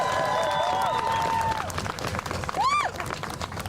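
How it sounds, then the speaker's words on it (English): Audience applause at a New York City news conference with Mayor Zohran Mamdani: a crowd claps steadily and fairly loudly for a few seconds, with scattered cheering and brief tonal chirps mixed in. "one last round of applause for Tasha Van Auken and Ali Najmi"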